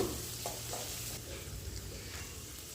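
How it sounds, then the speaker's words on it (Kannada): Chopped onions and green chillies sizzling in oil for street-style gobi Manchurian, a faint continuous frying hiss with a few soft stirring scrapes, brief and steady. "ಕಟ್ ಮಾಡಿಟ್ಟಿರುವಂತಹ ಎರಡು ಈರುಳ್ಳಿನ ಹಾಕ್ತಾಯಿದ್ದೀನಿ ಎರಡು ಹಸಿಮೆಣ್ಸಿಕಾಯನ್ನ ಸೇರಿಸ್ಕೊಂಡು ಚೆನ್ನಾಗಿ ಫ್ರೈ ಮಾಡ್ಕೋತಾ ಇದ್ದೀನಿ"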